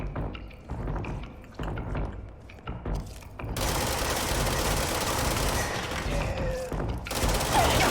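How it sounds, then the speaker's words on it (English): Enemies fire guns from a distance in the game Control, giving a dense, continuous crackle of gunfire under a loud, noisy game mix, with several thumps early on. "they're shooting at me from a distance"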